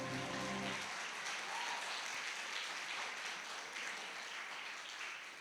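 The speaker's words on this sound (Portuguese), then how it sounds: "Aplauda o nome do Senhor." A church congregation applauds in praise of the Lord during a Portuguese-language evangelical service, a broad, even clatter of many hands that follows a brief tail of spoken voice and fades slightly toward the end.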